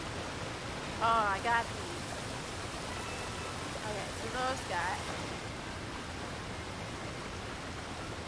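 A waterfall in Super Mario Odyssey pours as a steady, even wash of broadband noise throughout, with a player talking briefly over it.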